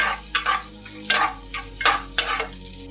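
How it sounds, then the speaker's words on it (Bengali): Garlic and onion fry in hot oil as a tempering for cooked rice, with close, rhythmic scraping stirs about every half second over a soft sizzle. "রসুন পেঁয়াজ দিয়ে বাগার দিয়ে নিচ্ছি।"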